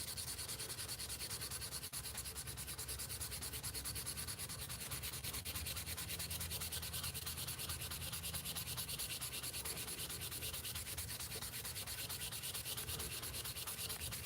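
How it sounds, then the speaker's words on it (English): Steady, continuous abrasive rubbing of sandpaper by hand with the grain against spinning desert ironwood on a lathe, a dense hiss with no pauses for the whole stretch, close and fairly loud. "go ahead and stop it, sand with the grain."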